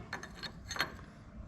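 A wrench snugging a nut on the steering cylinder of a John Deere 425 lawn tractor, giving a few close, quick metallic ratcheting clicks.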